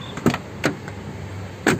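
The left door of a 2009 LS Turbo car is opened, giving a few sharp metallic clicks and clunks of the latch and hinge spaced across a quiet interior.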